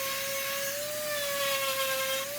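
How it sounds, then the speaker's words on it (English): A power sander grinds steadily against the live edges of a black walnut slab, a continuous high whine over a rough scratching hiss, close and unbroken throughout. "Sanding each of the live edges"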